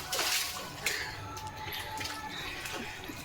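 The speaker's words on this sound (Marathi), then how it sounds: "लिओ पाणी खेळणार आहे" A dog splashes and plays in water, giving a couple of sharp splashes at the start followed by softer sloshing and dripping nearby.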